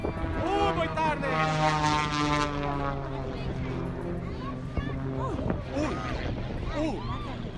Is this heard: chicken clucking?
no